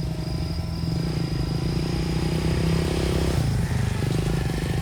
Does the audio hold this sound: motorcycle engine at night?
yes